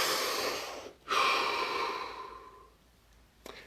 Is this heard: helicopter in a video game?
no